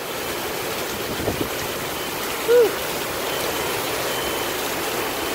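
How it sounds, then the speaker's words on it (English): Hurricane Florence wind roaring steadily outdoors in downtown Wilmington, North Carolina, a constant broadband rush throughout with a brief exhale from a person partway through. "Windy pretty good here."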